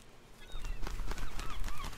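Goose honks in a video game, a few short nasal calls repeated over game background noise and clatter.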